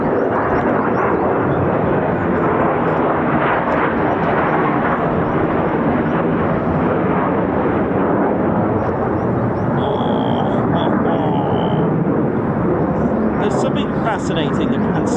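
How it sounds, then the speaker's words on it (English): Fighter jets, F-15s and F-35s, flying over RAF Lakenheath, a loud continuous roar filling the whole span with someone talking over it. "I can hear aircraft coming in on Point Charlie"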